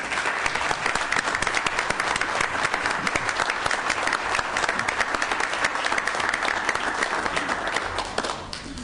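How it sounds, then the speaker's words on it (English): A room full of people at a Board of Education meeting gives a sustained, dense round of applause for several seconds before it begins to fade. "So I think we should all give a big round of applause for Mr. Barrera."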